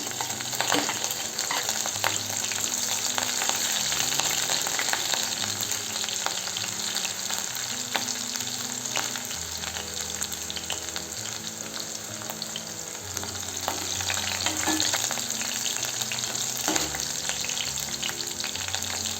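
Onion, garlic paste and green chilli frying steadily in a pan for a young bamboo shoot dish, with a constant close sizzle and occasional stirring scrapes running throughout.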